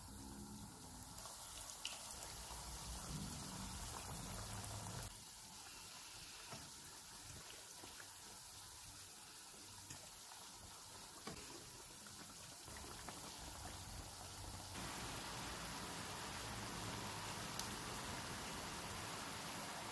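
Potato nuggets fry in hot oil over a medium flame, a faint, continuous bubbling hiss that stays steady throughout with slight shifts in intensity.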